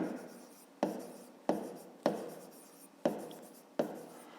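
Pen writing a maths solution by hand on paper, six sharp stroke onsets each trailing into a scratchy scrawl, close and fairly quiet with no voice.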